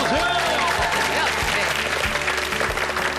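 A studio audience on a Korean health variety show claps to welcome an optometrist guest, brisk and steady for a few seconds. Bright music and rhythmic low thumps sound beneath the clapping.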